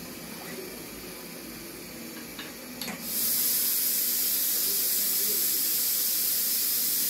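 Compressed air bursts on and hisses steadily through an air caliper gauge fixture checking a shaft's outer diameter, a sudden loud broadband rush after a brief click, continuing unbroken.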